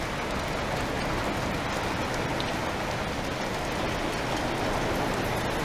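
A heavy afternoon rain shower drumming on a roof, steady dense hiss of drops that continues unbroken and fairly loud throughout, with no voices.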